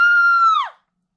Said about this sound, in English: Monica screams and they all stare at her.